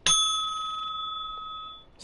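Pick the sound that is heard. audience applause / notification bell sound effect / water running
notification bell sound effect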